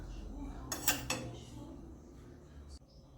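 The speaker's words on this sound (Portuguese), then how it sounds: "Vai umedecendo e dando uma espalhadinha com a colher." A spoon spreads syrup over an orange cake, clinking and scraping against the dish in a quick cluster of sharp taps, then a quieter scrape, close and fairly soft.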